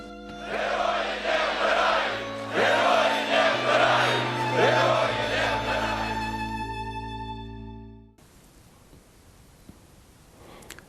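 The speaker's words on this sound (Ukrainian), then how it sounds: "весь час є вигуки слава героя" A crowd at a memorial for a fallen hero of the Heavenly Hundred chants "Glory to the heroes" in loud, rhythmic group shouts over a low sustained tone, then falls silent after about eight seconds.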